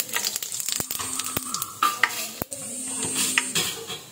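Mustard, fenugreek and cumin seeds fry in hot oil for a fish kulambu. A close, crackling sizzle is broken by sharp clicks of a spoon against the pan and stirring scrapes.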